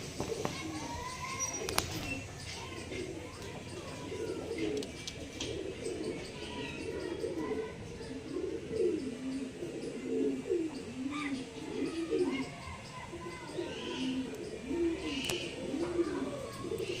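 Lalshira-type pigeons coo in soft, rolling, repeated phrases under a constant low background murmur, with a few faint chirps.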